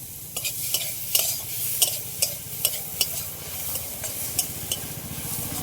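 Grated coconut is stirred in a wok with a light sizzle underneath, and a utensil scrapes the metal in a regular rhythm of about a dozen distinct strokes.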